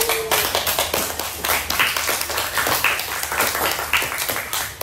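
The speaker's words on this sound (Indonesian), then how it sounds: "Yuk kita beri aplaus bareng-bareng kita semua yuk" A fourth-grade class in an Indonesian-language lesson bursts into applause together, a dense stretch of many hands clapping in a steady, lively rhythm for about five seconds, close and loud with no talk over it.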